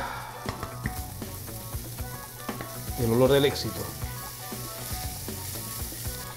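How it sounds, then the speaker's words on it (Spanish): Garlic hits a hot pan where bacon has been cooking for pasta, giving a steady crackling sizzle with scraping stir strokes and a brief louder flare; someone speaks briefly over it. "Vamos ahora con el ajo. Va para adentro el ajo."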